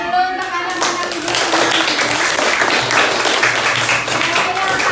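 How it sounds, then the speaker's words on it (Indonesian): Children in a classroom clap their hands together in a sustained round of dense, close clapping, with voices mixed in throughout. "Coba tepuk tangan dulu untuk anak-anak ibu"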